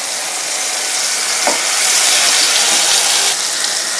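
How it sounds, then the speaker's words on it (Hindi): Ground onion, green chili and ginger paste sizzles loudly in hot oil in a pan, a steady close hiss with faint stirring scrapes throughout. "प्याज, हरी मिर्च और अदरक का पेस्ट में डाल दिया है।"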